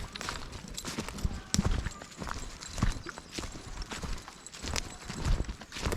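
A horse walks on an estate path, its hooves clip-clopping in a steady, close rhythm while people talk nearby.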